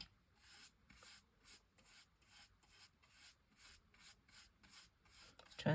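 A stencil brush rubs back and forth over a stencil in a steady, regular scrubbing rhythm of about a dozen soft strokes, close and quiet with no voices.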